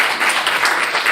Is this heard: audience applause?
yes